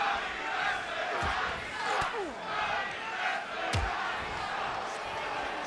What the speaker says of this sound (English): You can hear the Johnny Wrestling and Coffee Sucks chants in the crowd as Johnny Gargano takes control of this matc